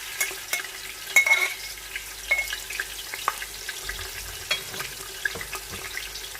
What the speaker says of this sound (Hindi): थोड़ा सा भूनेंगे इसे। हरी प्याज ऐड करेंगे, प्याज ऐड करेंगे।